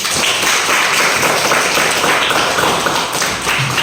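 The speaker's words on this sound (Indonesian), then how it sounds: "Tepuk tangan untuk kalian." Schoolchildren clap together in an elementary social studies classroom, a dense, steady patter of many small hands lasting the whole moment, close and lively.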